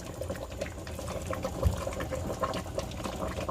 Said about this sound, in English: we're just gonna add in some potato starch water